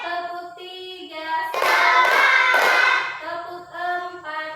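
A classroom of pupils claps in rhythmic group patterns one through three, bursts of many hands between stretches of a voice calling the counts.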